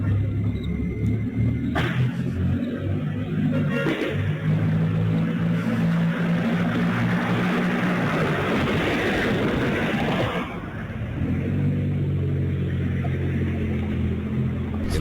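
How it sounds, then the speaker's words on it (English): A Mercedes car speeds through city streets at night, a continuous low rumbling engine and road roar heard from a distance, swelling and then easing off, with no talk. "we hear gunshots and then that same Mercedes car speed through the streets"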